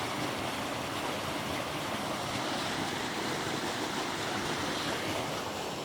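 A creek runs high after heavy rain, giving a steady broadband rush of flowing water, constant and fairly close, with no voices.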